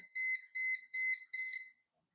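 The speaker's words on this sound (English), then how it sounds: "Is that thing just beeping?" Four bursts of high electronic beeping from a line follower robot kit, each a cluster of rapid tones lasting about a third of a second, evenly spaced, then silence.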